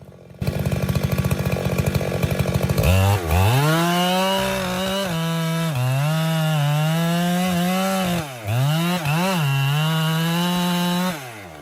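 A chainsaw cutting into a wood stump, loud and close, its engine revving up then holding a strained, wavering drone as the chain bites, dipping briefly before pushing on.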